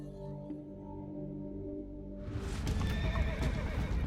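A horse neighs with a long, wavering whinny, then hooves clatter loudly and close, with more horse noise mixed in.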